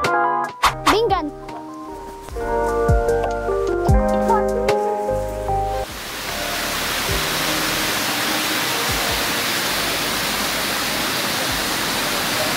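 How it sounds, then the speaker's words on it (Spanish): Children chatter over background sound for the first half. Then a steady, loud rush of flowing water in Bogotá's botanical garden takes over and continues without a break. "Escucha agua, ¿cierto?"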